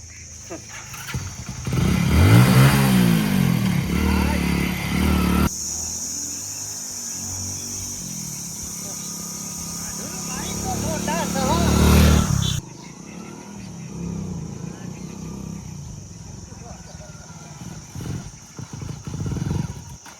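A motorcycle engine rumbles close by, loudest in bursts early on and again near the middle, then drops away as the engine stalls, with people talking over it.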